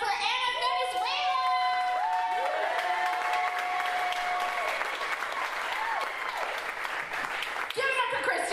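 A comedy festival crowd at a roast battle claps and cheers loudly and continuously, with whoops and shouted voices riding over the dense applause throughout.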